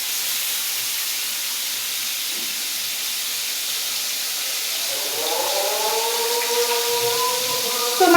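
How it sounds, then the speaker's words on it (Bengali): Fish fries in a hot wok with a constant, even sizzling hiss. Midway, a distant chanting voice rises faintly over the frying. "তো মাছটা ভাজা হোক"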